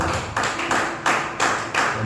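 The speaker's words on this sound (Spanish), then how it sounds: "den un aplauso al Señor, un aplauso al Rey" A church congregation claps together during worship praise, producing loud rhythmic bursts of applause repeating about every third of a second.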